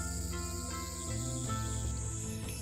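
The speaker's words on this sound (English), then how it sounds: "I can hear the chirping of cicadas from the few trees growing here." Cicadas chirp in the few trees of a small shrine tucked among city buildings, a sustained buzzing drone with layered pulsing tones, steady and fairly close, without any talking.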